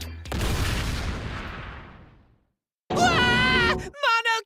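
Video game explosion from Danganronpa V3: Killing Harmony, a loud burst with a long decaying rumble that fades to silence before a high, tonal voice-like sound rises after it.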